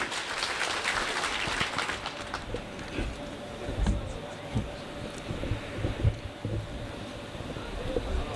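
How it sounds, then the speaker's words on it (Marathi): A crowd at a farmers' gathering claps in a dense burst that thins out after a couple of seconds, leaving crackling background noise and faint voices. "एकदा जोरदार टाळ्या वाजवत्या सरांसाठी"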